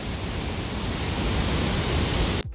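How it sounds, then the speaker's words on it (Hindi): Bord Hill waterfall roars as a dense, steady wash of falling water heard close and loud, a constant broadband rush that cuts off abruptly at the end. "तो ये जो वाटरफॉल आप लोगों ने देखा ना गाइस इसका नाम है बोर्ड हिल वाटरफॉल"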